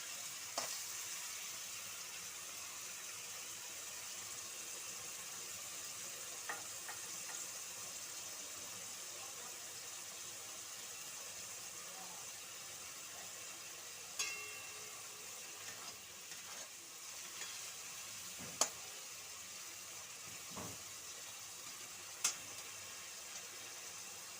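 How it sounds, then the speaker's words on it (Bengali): Onions frying in a pan for chicken kosha, a faint even sizzle running throughout with occasional light stirring clicks, quiet and distant-sounding with no talk. "পেঁয়াজটা একটু কষুক, তারপর আমি কোচানো টমেটো দিয়ে দেব।"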